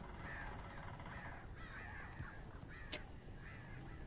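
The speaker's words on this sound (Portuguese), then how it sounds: "o tanto de pássaro" Crows cawing in the video game Alan Wake Remastered, several hoarse caws repeating at irregular intervals over a steady low ambient hum, with one sharp click partway through.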